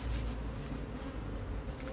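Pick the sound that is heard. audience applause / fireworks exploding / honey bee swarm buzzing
honey bee swarm buzzing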